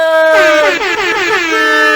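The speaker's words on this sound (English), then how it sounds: "I'm sure the editor added an air horn" A loud, blaring air horn blast, held for about a second with a wavering, bending pitch before trailing off.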